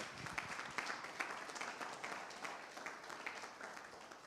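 A church congregation applauding, a soft, fairly distant patter of clapping with rhythmic swells throughout.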